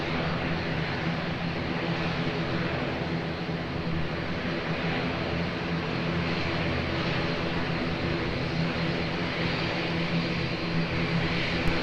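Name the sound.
airplane taking off at Lisbon Airport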